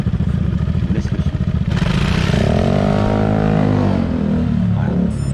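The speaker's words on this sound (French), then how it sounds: "Deux scooters à Malakoff. Je vous laisse le son." Two scooters with loud aftermarket exhausts pull away on a street in Malakoff, a choppy putt-putt idle bursting into a rising, rasping rev that swells and fades as they accelerate off, heard close from behind.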